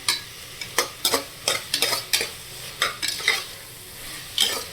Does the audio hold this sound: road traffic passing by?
no